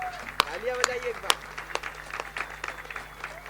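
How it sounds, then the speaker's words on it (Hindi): An audience at a Hindi kavi sammelan poetry recital gives a scattered burst of clapping, with sharp individual claps over a steady crowd murmur. "तालियां बजाइए एक बार।"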